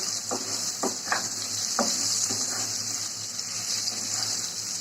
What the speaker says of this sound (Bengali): বয়ল করে খোসা ফেলে নেওয়া কচুগুলো হালকা একটু ভেজে নিচ্ছে